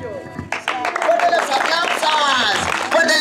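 An audience at a Christmas show bursts into applause that starts abruptly and continues loud and dense, with whistles and a voice over a microphone layered on top.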